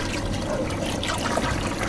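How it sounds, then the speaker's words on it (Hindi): Water poured steadily into a pot of beef nihari cooking in a home kitchen, a close, continuous splashing gush lasting a couple of seconds with no voices. "अब इसके अंदर पानी डालने लगा हूँ।"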